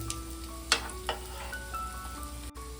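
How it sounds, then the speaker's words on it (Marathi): Vadis made with fresh dried shrimp sizzle gently in a pan as they are flipped, with a few soft spatula taps and clinks over a low, steady fry and a faint background tone. "आता मी पलटी करते वड्या"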